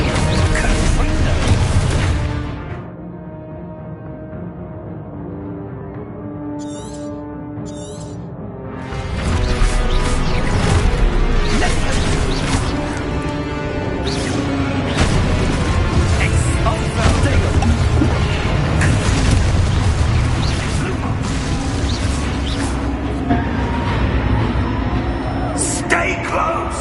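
Confringo blasting spells burst in Hogwarts Legacy as repeated crashing explosions over a dense bed of combat noise and music, with shouted spell calls and voices heard among the blasts.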